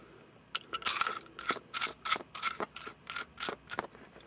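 An RCBS Precision Mic gauge ratchet is turned while measuring a fired rifle casing, giving about a dozen crisp, close clicks in an uneven but steady rhythm, with no talking.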